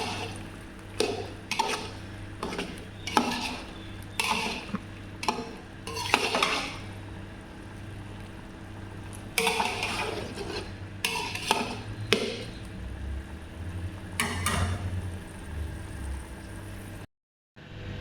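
Goat meat and spices being stirred and sautéed in a pot, a spoon scraping and clinking against the metal in irregular strokes over a steady low sizzle, close and moderately loud with no talking.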